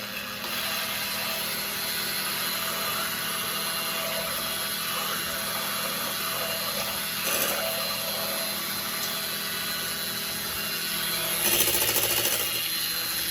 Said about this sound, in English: And time to start beating on high.